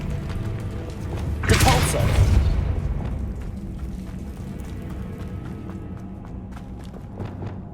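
A Bombarda blast spell in Hogwarts Legacy gives one loud, broad booming burst that trails into rumbling debris. Softer ambient game sound and scattered small impacts continue afterward.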